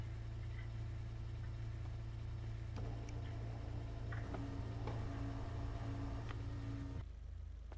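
A car engine idles in GTA Online, a steady low drone running nearly the whole time with faint ticking and small game noises on top, then dropping away near the end; no one speaks.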